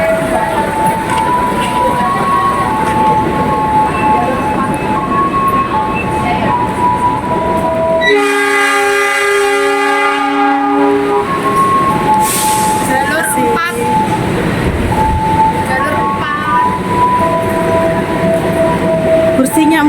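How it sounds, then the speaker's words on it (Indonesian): Long-distance Sancaka passenger train sounds loud and close with steady rumble, a sustained multi-tone horn blast in the middle, and voices talking over the noise. "naik kereta jarak jauh"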